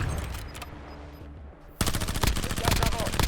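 Gunfire in the Warzone battle royale video game, a burst of rapid shots breaking in sharply halfway through over background game noise, loud and dense until the end.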